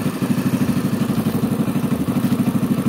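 A Honda Astrea Grand motorcycle engine runs steadily at idle, loud and close, with an even rapid pulsing chug throughout and no voices.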